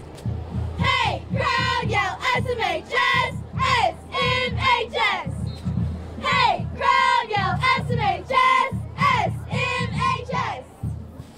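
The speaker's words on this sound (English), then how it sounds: "crowd yell SMHS, SMHS" Cheerleaders and a crowd at a high school football game chant a rhythmic, repeated cheer of short, bright shouted syllables in unison, loud and steady throughout.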